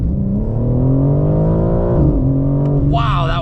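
A 735 hp G82 BMW M4 Competition xDrive launches under launch control, its engine note climbing steadily in one loud, continuous pull, dipping briefly at a gear change, then rising again as the revs build.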